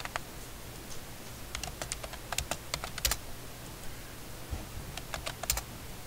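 Someone types on a computer keyboard, with bursts of sharp, quick key clicks separated by short pauses, close and fairly quiet, with no talking.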